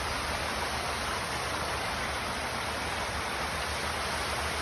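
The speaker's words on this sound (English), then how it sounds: "the sound of river" A river at night, the Hudson, flows with a steady broadband rush, faint and even, with no breaks or other sounds.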